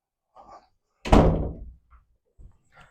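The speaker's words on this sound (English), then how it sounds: "I'm going to close this door so the dog don't keep walking through." A door swings shut with a single solid thunk that rings briefly before fading, framed by faint scuffs and small handling noises before and after, heard alone without talk.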